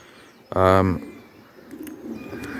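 A racing pigeon gives a single short cooing call with stacked harmonics, close and clear, followed by quiet room ambience.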